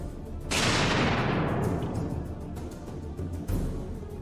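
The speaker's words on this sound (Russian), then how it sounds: "Сейчас мы имитируем внутренний взрыв в бараке." A pyrotechnic charge simulating an internal blast inside a wooden box in a barrack, a single sharp boom with a broad rushing burst that decays over several seconds, followed by a smaller thump.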